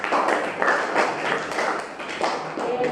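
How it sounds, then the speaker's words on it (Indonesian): Students clap for a classmate in a physics lesson on Hooke's law and spring stiffness, a brief round of scattered hand claps in uneven bursts, fairly close, with faint talk underneath. "Oke, boleh tepuk tangan buat saya."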